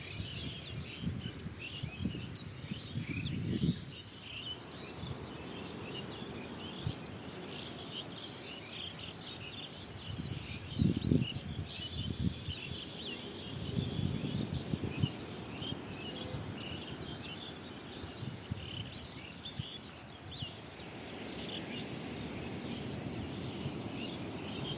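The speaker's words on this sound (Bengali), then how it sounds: "জঙ্গলে পাখির আওয়াজ, পুরো পাখি ভরে গেছে, পাখির আওয়াজ পাওয়া যাচ্ছে" Birds call and chirp faintly in a forest near the sea at Shankarpur, scattered tweets over a soft bed of insect buzz and distant ambient rumble, quiet and far-off, with no talk.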